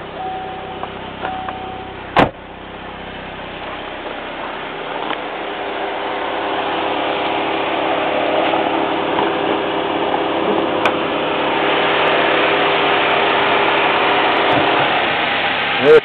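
A Saab car's engine idling with the hood open, a steady mid-pitched hum that rises slightly in strength, with a few sharp clicks and knocks nearby.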